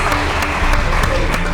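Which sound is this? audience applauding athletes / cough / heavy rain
audience applauding athletes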